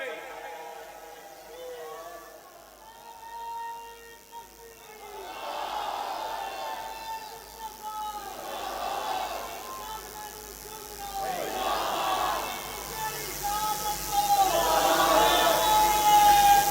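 A large crowd at a religious conference in Royal Chowk, Larkana, roars the takbir chant in repeated swelling waves, growing louder toward the end.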